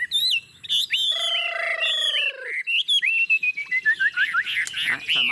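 A hand-raised Chinese hwamei songbird sings loudly and close, running bright whistled phrases, trills and sliding notes in quick bursts with short pauses between them.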